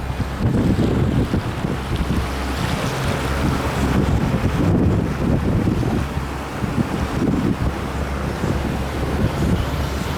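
A runabout motorboat engine, a Chris Craft leaving a boat ramp on Buckeye Lake, drones steadily beneath strong wind buffeting the microphone, with water rushing alongside throughout.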